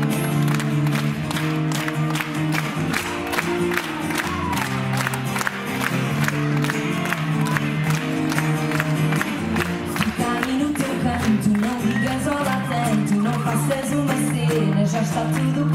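A crowd claps steadily over loud live acoustic music at a concert, with cheering voices mixed in throughout.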